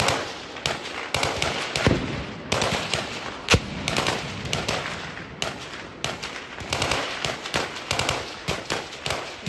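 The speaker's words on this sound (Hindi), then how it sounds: "गनशॉट्स की आवाजें आपको साफ तौर पर सुनाई दे रही होंगी" Sustained gunfire during a security forces' search operation in a dense forest near Patnitop, Jammu and Kashmir: rapid, overlapping bursts of shots and cracks echoing continuously, loud and dense with barely any pause.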